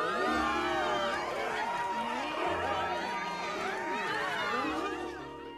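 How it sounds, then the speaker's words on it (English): A crowd of Zora cheers in The Legend of Zelda: Tears of the Kingdom, a dense, loud wash of voices and chatter with someone speaking over it. "every Zora people are just cheering for the life of us"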